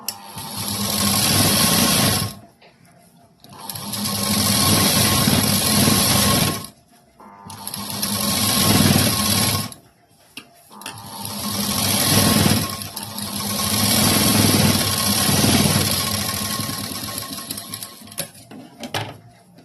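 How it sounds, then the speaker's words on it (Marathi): A sewing machine runs a double line of stitching along a blouse sleeve seam in long, loud, steady whirring runs broken by brief pauses, close and alone. "आता मी डबल शिलाई देऊन घेते"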